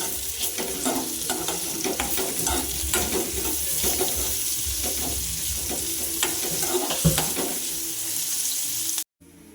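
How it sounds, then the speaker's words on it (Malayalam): Plain green chillies frying in a pan, a continuous close sizzle with repeated stirring scrapes and clatter running throughout, cutting off abruptly near the end. "അപ്പം നമ്മുടെ സാധാ പച്ചമുളക് വറുത്ത് കഴിക്കുന്നത് കേട്ടോ."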